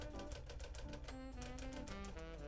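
A Smith-Corona Silent-Super manual typewriter types a rapid, steady run of keystrokes toward the end of a line, each strike crisp and close, with a ringing tone partway through and no talk.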